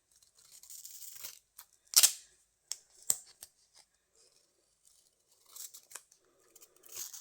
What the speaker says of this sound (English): And I'm going to come in and just cut this in half.